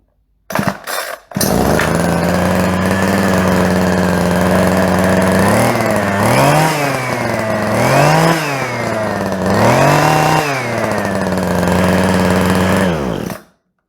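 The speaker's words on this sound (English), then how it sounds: "This is how the engine on a stick works." A small engine mounted on a stick runs steadily and loud, starting after a brief sputter, with its pitch rising and falling in several revving surges before it cuts off.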